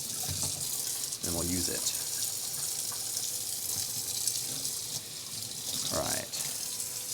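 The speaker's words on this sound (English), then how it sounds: "Let me also let me rinse the spoon," A spoon rinsed under a running kitchen tap while cooking spinach pumpkin lasagna, a steady broadband rush of water that continues throughout, with brief speech breaking in twice.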